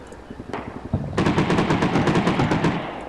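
Rapid bursts of machine gun fire in the war video game Combat Mission Shock Force during urban combat in Al Amarah, a few short shots followed by a loud sustained rattling burst.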